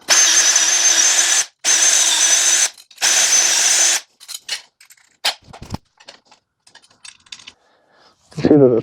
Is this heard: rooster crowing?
no